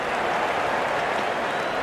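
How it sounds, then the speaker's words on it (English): A cricket crowd applauds a boundary with a continuous wash of clapping and crowd noise, held at an even, moderate level throughout as if heard from a distance. "The crowd is enjoying every bit of this action."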